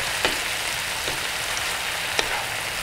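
Shrimp and meatballs cooking in a pan sizzle with a continuous dense crackle, close and even, broken by a few brief sharper pops.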